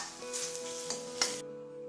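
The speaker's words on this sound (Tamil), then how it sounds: "இப்போ பொரியலுக்கு தாளிச்சு விட்டுக்கலாம்." Spices for tempering a vegetable stir-fry sizzle in about a spoon of hot oil in a kadai, a close, steady hiss with crackling pops and a couple of sharper spits before it cuts off abruptly.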